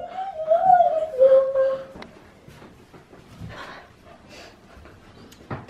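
A husky puppy lets out a high, wavering whimper for about two seconds, then turns to quiet breathy panting with scattered small rustles and a brief sharp noise at the end.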